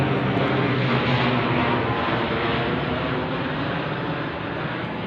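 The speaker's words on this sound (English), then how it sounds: "Only small planes going over." Small planes flying overhead give a steady, droning engine hum, a broad low rumble that slowly fades slightly toward the end.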